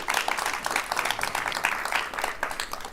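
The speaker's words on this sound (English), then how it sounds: "let's clap it up" Audience applause for an artisan at a live crafting show, a steady spread of many hands clapping at moderate level throughout, with no clear voices on top.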